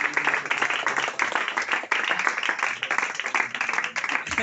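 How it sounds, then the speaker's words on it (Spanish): A church congregation applauds enthusiastically during a sermon, producing steady, energetic clapping with some voices mixed in, sustained for several seconds. "Denle un aplauso a Dios."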